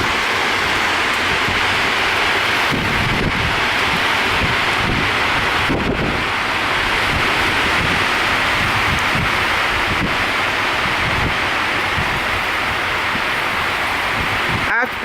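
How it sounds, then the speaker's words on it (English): Strong wind off the ocean batters the microphone in a constant loud rushing roar with buffeting thumps, a rustling, rain-like hiss layered over it. "it's just winds coming off of the ocean"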